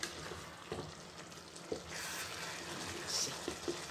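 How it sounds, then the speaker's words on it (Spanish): A spoon scrapes browned crust from the bottom of a pot of simmering chicken sauce, giving soft irregular scrapes and taps over a low steady sizzle, with no talking. "Vamos a raspar así un poquito lo que es la costra que se ha hecho al fondo de la cacerola"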